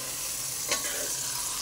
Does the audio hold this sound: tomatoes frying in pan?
yes